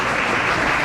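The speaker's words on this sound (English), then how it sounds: "a round of applause for Leaf again" Audience at a fundraiser tribute event applauds, a brief, dense, steady wash of clapping with no voices over it.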